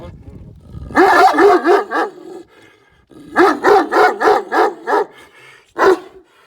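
A tethered dog barks in two bursts of several loud, close barks each, then one final bark, with brief pauses between the bursts.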